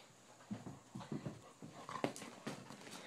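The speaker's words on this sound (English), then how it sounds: "That's a happy dog." A dog pants rhythmically with soft snuffles and quick scuffling movements, close by and fairly quiet, with small thumps as it plays.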